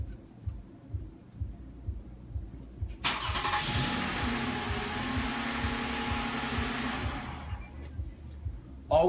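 A car engine cranks and catches via a Viper remote start system, turning over abruptly into a steady idle after a few seconds of quiet, close and fairly loud, with a repeated low thumping running throughout.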